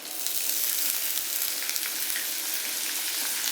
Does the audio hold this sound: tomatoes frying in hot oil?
yes